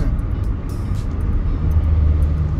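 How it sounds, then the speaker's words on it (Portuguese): Heavy trucks and other traffic roll along a busy road near Santos, São Paulo, making a loud, constant, low engine rumble and road roar with passing hiss, and no talk is heard. "É uma estrada cheia de caminhão, sabe? É muito caminhão o tempo todo."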